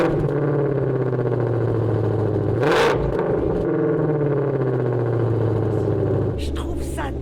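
A Ford Mustang Shelby GT500 engine running loud and close, a heavy rumbling drone with a sharp rev surge midway and a drop to a lower idle near the end, with people talking over it.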